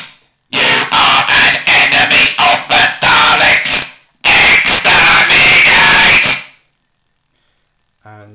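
A prototype Dalek voice modulator turned up to high volume gives a harsh, buzzing, robotic voice in a long run of loud, clipped bursts. There is a short gap, then a second sustained burst before it cuts out.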